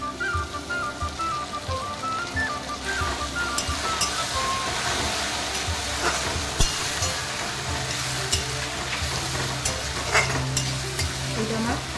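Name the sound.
jackfruit chili chicken stir-frying in a pan with soy sauce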